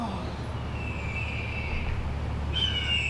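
Staged sound effect for a theatre festival play: shrill, drawn-out cries of kites and crows ring out over a steady low hum, one long call followed by another after a pause, moderately loud.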